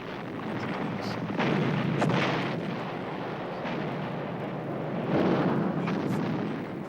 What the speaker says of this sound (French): La tête de pont fut violemment prise à partie par l'artillerie à longue portée, montée sur rail, d'une efficacité redoutable.